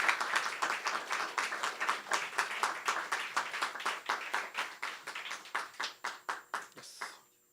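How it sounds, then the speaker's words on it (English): Audience at a double book launch applauds with clearly separated, rhythmic claps, a fairly small crowd clapping steadily for several seconds before stopping abruptly. "Let's give her a round of applause"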